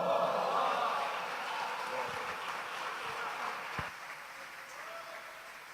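A church congregation applauds during a Sunday school service, a dense, steady wash of clapping that holds fairly evenly throughout and thins slightly toward the end, with no voices standing out.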